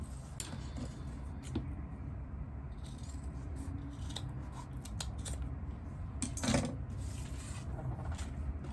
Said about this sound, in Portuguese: E aí a gente vai aqui alinhar o que sobrou aqui de zíper, cortar.